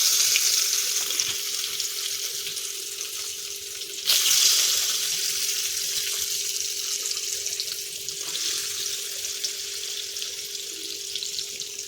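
Tap water running into a pot or sink for cooking soybeans, a steady close rush with a sharper splash partway through, alongside faint frying sizzle.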